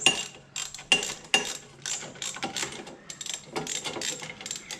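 Ratchet clicking while undoing the foot peg bolts on a Suzuki Boulevard M109R motorcycle: repeated quick bursts of close, crisp pawl ticking with short pauses between strokes.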